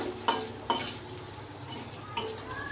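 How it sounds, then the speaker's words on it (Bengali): Snake gourd (chichinga) fries in a little oil in a pan under a soft steady sizzle, while a utensil scrapes and clinks against the pan in three distinct stirring strokes. "চিচিঙ্গা ভাজি করতে করতে কতটুকু হয়ে যায় ভাজতে ভাজতে"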